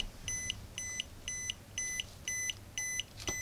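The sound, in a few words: battery tester alarm beeping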